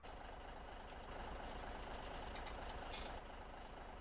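Game engine of a V8 HGV truck in Farming Simulator 17, a steady loud diesel drone that keeps running evenly for about four seconds with no talk over it.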